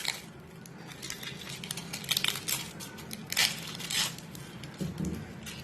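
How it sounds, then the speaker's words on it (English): Garlic cloves being crushed, a series of soft crunching and scraping knocks with irregular sharp clicks, close and quiet, no talking. "can crush garlic like this, add in honey and take it"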